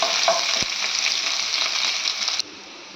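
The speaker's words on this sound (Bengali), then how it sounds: "তো আমি এখন 1 কাপ পেঁয়াজ দিয়ার পেঁয়াজটাকে আমি এখন লাড়াচাড়া করে দিই" Onions frying in hot oil and stirred, making a loud, dense sizzle with scraping stir noises and one sharp knock, before the sizzle suddenly drops to a quieter hiss near the end.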